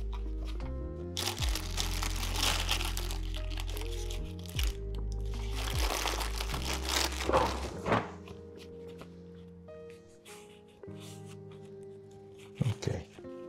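A paper coffee filter being swapped and handled for an Origami ceramic dripper, with two stretches of crisp crinkling and rustling close by, followed by soft thunks, over steady background music.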